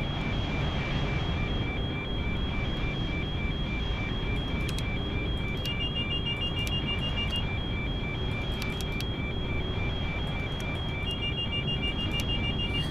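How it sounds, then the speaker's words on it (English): Cockpit alarms in a PMDG 777-300ER in Microsoft Flight Simulator 2020, steady high electronic tones that keep sounding and overlap with brief clicks over a constant low rumble, with no talk. "we're having multiple alarms go off"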